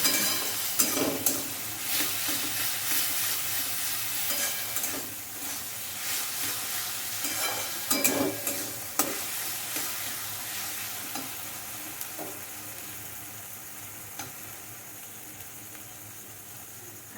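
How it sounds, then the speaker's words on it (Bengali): Potatoes stirred into spiced masala frying for ghugni, with a steady sizzle and hiss under intermittent scraping stirs that thin out toward the end, close by. "আলুগুলো দিয়ে আমার কিছুক্ষণ একটু নাড়াচাড়া"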